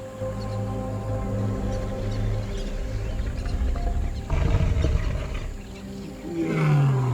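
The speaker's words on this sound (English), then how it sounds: "As the sun sets behind the crater rim, deep roars echo across the land." Deep lion roars carry across an open crater landscape at sunset, a long low rumbling call building and rising again toward the end, loud and reverberant with no talk over it.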